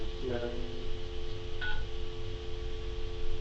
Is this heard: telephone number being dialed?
yes